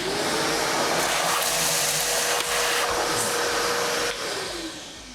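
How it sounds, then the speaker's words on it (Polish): A vacuum cleaner roars steadily up close, sucking up spilled coffee grounds from beneath a DeLonghi Magnifica Evo espresso machine, its pitch dipping briefly near the end. "podniosę i odkurzę tą kawę tu od spodu"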